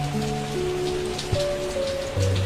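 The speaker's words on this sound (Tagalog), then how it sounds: "Lalakas pa yata ang ulan." Dense, steady rain hisses loudly and continuously, with low hums in the background and no voices.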